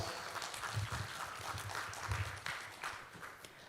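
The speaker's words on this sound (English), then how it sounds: "warm applause." A conference audience at ICOEN XI 2024, Universitas Ciputra Surabaya, gives warm applause: a soft, diffuse patter of many hands, fairly even, with faint low murmurs mixed in.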